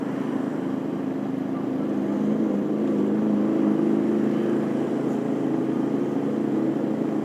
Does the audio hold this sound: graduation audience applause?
no